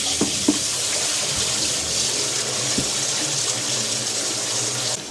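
A running tap gushes steadily while collapsible water containers are rinsed under it, with a few knocks and clunks of the containers being handled at close range. Nobody speaks.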